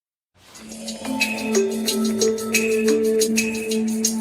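A Furby toy's electronic, tinny random laugh with warbling pitched tones and chirps, repeating for a few seconds up close.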